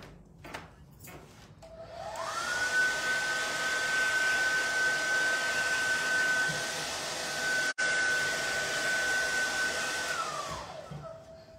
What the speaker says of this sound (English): dry this one off with the hair dryer and seal it